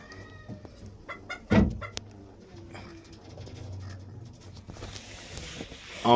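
Fancy chickens cluck and cackle nearby amid pigeon cooing, with a couple of sharp bangs and scattered bird calls in a noisy coop.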